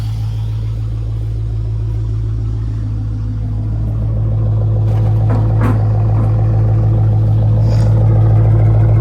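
Engine of a second-generation Dodge Charger idling with a steady low rumble, close and loud, rising slightly in level partway through, with a few brief rattles and knocks over the even hum.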